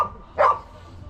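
A single short, sharp dog bark rings out on a bricklaying building site at moderate distance, alone against a low background hum.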